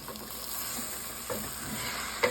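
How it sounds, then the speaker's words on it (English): Utensil scraping and stirring across the bottom of a soup pot of lemon chicken orzo, a steady soft sizzle with a few brief scrape accents, close and alone. "scrape off the bottom and get all that yumminess out, and just mix it before I add all the broth in there"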